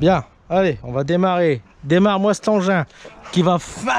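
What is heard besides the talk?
No everyday noise stands out behind the speech.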